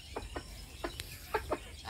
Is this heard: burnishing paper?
no